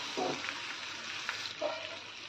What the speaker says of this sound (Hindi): टिंडे हमारे गल गए हैं, थोड़ा सा और भूनेंगे इनको